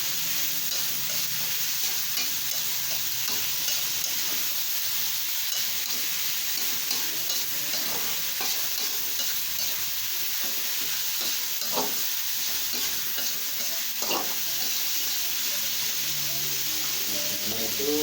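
Giant freshwater prawns sizzle and fry steadily in a pan with bitter gourd and palm sugar, stirred with repeated scraping clicks, close and continuous throughout.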